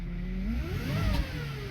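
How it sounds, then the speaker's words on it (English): A running Chevy Traverse has its exhaust tapping against something underneath, a faint light clicking over a steady engine drone heard up close, with no talk. "It sounds like the exhaust tapping on something."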